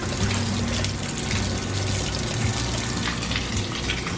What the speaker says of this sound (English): really the only way we have water right now is through the bathtub